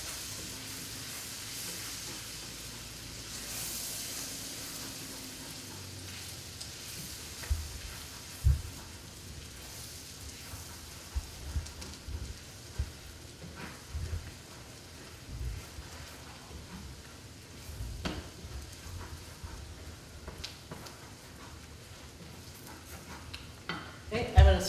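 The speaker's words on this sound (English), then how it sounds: "Cook it with the garlic in there for about 30 seconds." Garlic sizzles in a frying pan: a quiet, steady crackle with scattered pops and occasional stirring clicks, going on throughout without speech.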